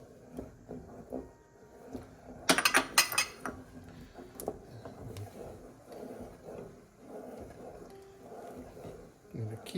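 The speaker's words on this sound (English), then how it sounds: "I'm going to keep stirring while we make sure our eggs are cooked" Hot and sour soup with egg ribbons is stirred in a pot; a utensil clinks and scrapes against the metal, with a short burst of clattering near the middle over low kitchen background.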